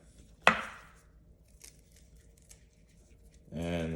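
A knife slices through a bell pepper on a cutting board with one loud crisp chop followed by several faint light cuts, before a voice begins speaking at the end.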